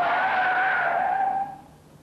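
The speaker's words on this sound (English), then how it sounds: "He drives the police car at 30 miles an hour, the speed limit for this road" A police car brakes hard from 30 miles an hour, its tires squealing loudly in a continuous skid that fades out after about a second and a half.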